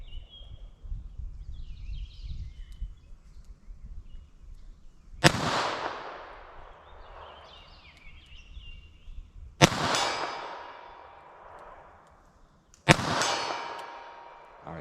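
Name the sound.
gunshots from .32 S&W Long revolver at 40 yards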